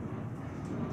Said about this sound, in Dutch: Excuses voor het vliegtuig.